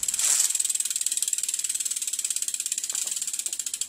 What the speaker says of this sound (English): I guess I'll do a sound check for you guys of the back wheel.